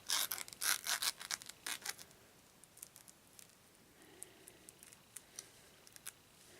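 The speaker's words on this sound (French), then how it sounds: "On va commencer avec le couteau pour couper la banane en deux." A kitchen knife slicing through bananas, with a cluster of crisp cutting and scraping strokes at the start and then sparse, faint taps and cuts spaced apart, close up and quiet with no one speaking.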